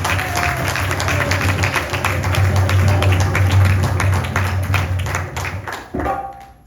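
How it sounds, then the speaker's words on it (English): An audience at a 60th birthday celebration breaks into sustained, loud applause, a dense wash of clapping that holds steady for several seconds before tapering off abruptly. "give me a nice round of applause because today she's celebrating her 60th birthday"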